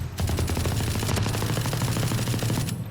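Rapid light-machine-gun spray in Valorant, a dense continuous burst of closely spaced shots firing steadily for nearly three seconds, loud and close with no talking.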